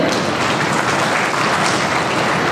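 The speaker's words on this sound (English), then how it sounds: "Now have a big round of applause for yourself." Audience applause at a school event at St. Peter's Convent School, a dense, steady wash of clapping from a large crowd, loud and continuous with no talk over it.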